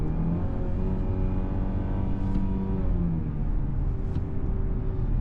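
A 2025 Mazda CX-30, heard from inside the cabin, pulls slowly in a lower gear with a steady engine drone and hum that builds gradually, road rumble beneath and no talking.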